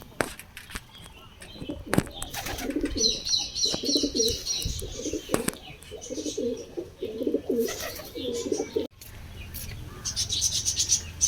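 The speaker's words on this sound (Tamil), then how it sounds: "எங்கே புறாக்கள், பாய் புறாக்கள்." Pigeons coo repeatedly at Sathanur Dam, soft rolling calls close by, mixed with chirps from other birds, thuds and outdoor background noise.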